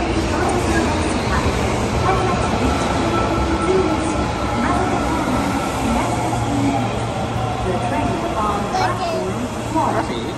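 An Osaka Metro Sennichimae Line 25 series subway train rumbles steadily through a station, a continuous low roar, with voices and faint background chatter mixed in.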